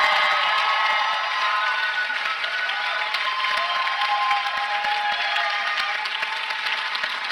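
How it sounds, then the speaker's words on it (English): Audience applause at a 2015 high school graduation ceremony in the Victoria Theatre, Dayton, Ohio: a steady, dense wash of many hands clapping that fills the hall at an even level throughout, with no voices on top. "Now let's give them a round of applause."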